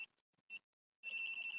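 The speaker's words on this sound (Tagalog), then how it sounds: "nag-a-alarm po siya once nakaka-detect po siya ng power" A multimeter's voltage detector beeps at a power outlet: two short chirps, a pause, then a steady high-pitched alarm tone that continues to the end.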